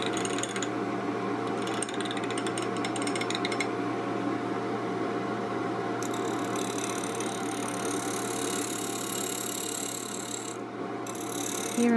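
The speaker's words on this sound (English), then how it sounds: "Here I'm truing it up a little bit with the bowl gouge, making sure it's completely round before I work on the bottom." A bowl gouge trues a spinning wooden blank on a lathe for a hollow form with a resin top, making a steady rasping, scraping hiss over the constant motor hum, with the cutting noise fading and returning as the tool moves.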